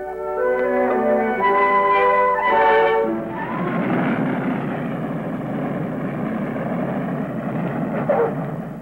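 A 1950s United Airlines propeller airliner, such as a DC-6, Stratocruiser or Convair 340, drones steadily in flight over the prairie states with loud continuous piston engine hum and throbbing propeller tone, and no talk.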